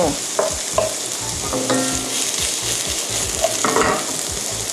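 Imitation crab and udon stir-fried in a pan with vegetables, a steady sizzle under repeated scraping and clattering strokes of a utensil against the pan, close and fairly loud.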